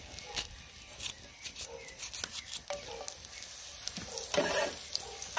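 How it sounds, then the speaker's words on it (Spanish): Finely chopped onion frying in oil in a home kitchen, a steady soft sizzle with occasional stirring scrapes and pops, fairly quiet, no talking. "solo vamos a estar dejando un poquito ahí que se dore un poquito la cebolla"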